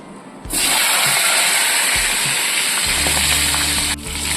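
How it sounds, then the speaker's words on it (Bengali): A katla fish head, rubbed with salt and turmeric, drops into hot mustard oil with a sudden loud burst of sizzling that holds as a fierce, steady spatter close by. "কাতলা মাছের মুড়োটা লবণ হলুদ দিয়ে আগের থেকে মাখিয়ে রেখেছিলাম, এবার আমি তেলে ছেড়ে দিচ্ছি।"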